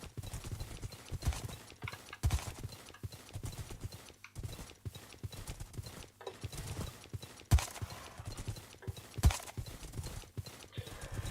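Several horses clip-clopping steadily along a road in the modded Minecraft game Age of Warfare, hoofbeats rhythmic and continuous at moderate volume, with an occasional brief whinny and no talking.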